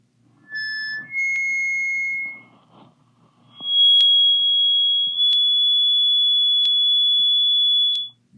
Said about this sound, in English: you can hear these little tones in the background going woo woo woo woo woo woo woo woo woo woo